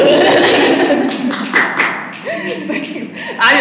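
Audience applause at a poetry reading, a dense patter of many hands clapping loudly at first, then thinning and fading as scattered claps and murmurs continue underneath.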